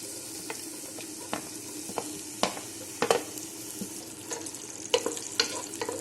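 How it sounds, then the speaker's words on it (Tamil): Onions frying in about three spoons of hot oil in a pan for chicken masala, a steady broadband sizzle with scattered crackles and stirring clicks, close and continuous with no talking. "எண்ணெய் சூடானதும் இந்த வெங்காயத்தை சேர்த்துங்க."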